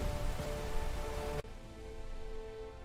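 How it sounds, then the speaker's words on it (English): Rain falls steadily during a rain delay in a baseball video game, a dense hiss that drops sharply in level midway, then continues more softly with a faint tonal hum underneath. "We are currently under a rain delay"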